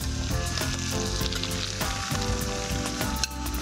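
Onion and dried red chilli fry in oil with a continuous loud sizzle, while background music plays throughout.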